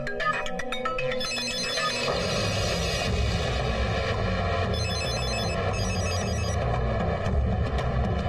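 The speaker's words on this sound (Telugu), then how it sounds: "ఫోన్ అన్నా" A telephone ringing in a tense action-film scene, a bright electronic ringtone repeating in bursts over a loud, dense background of rumbling score and effects.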